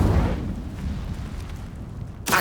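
Incendio fire spell in Hogwarts Legacy bursts out with a deep rumbling whoosh of flame that sustains and tails off, then a sharp crackling hit lands near the end.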